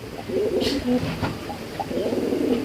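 Racing pigeons coo close by in soft, low, throaty rolls that repeat steadily, with a faint higher chirp or two above them and no voices.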